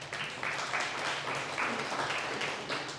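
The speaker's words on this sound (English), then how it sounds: "please give yourselves a round of applause for that" Applause from an audience at a company meeting, a steady wash of clapping that stays fairly even and moderately loud for a few seconds with no speech over it.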